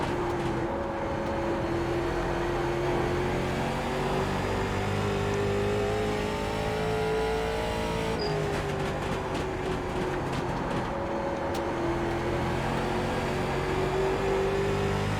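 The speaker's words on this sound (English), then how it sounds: "Looks like we got some lap cars coming up." Late Model race cars circle the Nashville Fairgrounds Speedway oval in the iRacing sim, a steady onboard engine drone holding throughout, its pitch shifting and rising midway as the car accelerates and other cars are lapped nearby.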